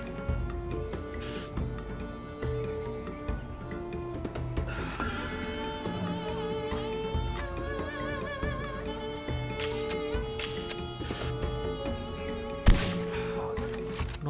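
A single sharp gunshot near the end of a Far Cry 4 gameplay sequence, sitting over steady game music and ambient sound.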